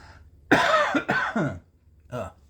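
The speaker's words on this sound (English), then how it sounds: "Still coughing, by the way." A person coughs several times in quick bursts, close and fairly loud, pausing briefly before one last cough.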